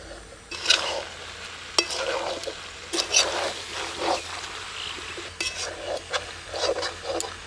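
Chicken feet and gizzard being stirred and fried in a pan, with scraping strokes and a soft sizzle coming in short, irregular bursts close by and no talking.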